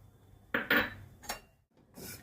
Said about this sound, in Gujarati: આ તલ જે 2 ચમચી લીધા છે મેં એ નાખી દઈશું.